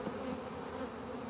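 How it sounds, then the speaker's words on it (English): Honey bees buzzing around a hive on a farm, a dense, steady droning hum at low volume that continues throughout the short moment with no voices. "now we got some bees up there"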